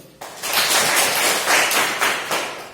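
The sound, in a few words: applause for everyone in a classroom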